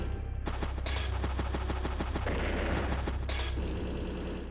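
In the Advance Wars turn-based strategy game, a battlecopter attacks a tank: loud, rapid bursts of machine-gun fire rattle in quick succession, then heavy booming impacts, all up close with no talking.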